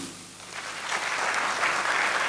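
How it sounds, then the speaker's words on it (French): Applause for graduates at a diploma ceremony, starting quietly and swelling within a second into steady, moderately loud clapping from a seated audience, with no talking over it. "Je vous demande de les applaudir"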